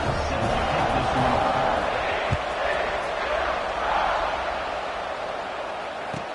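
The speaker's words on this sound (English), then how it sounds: "this crowd is buzzing after that last score" Football stadium crowd at a TCU versus Indiana game, a steady dense roar and murmur of thousands of fans after a score, loud and continuous with a commentator's voice over it.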